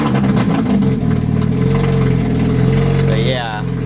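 Chevrolet Cobalt SS with a new downpipe idling loud, a dense low exhaust rumble held steady throughout, with a short rising whine near the end.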